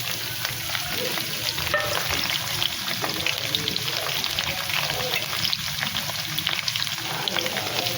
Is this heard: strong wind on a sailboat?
no